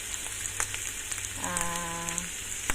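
Pork ribs sizzle and crackle in a hot pan while being sautéed, a steady close frying hiss with scattered pops, a short tonal hum rising briefly in the middle.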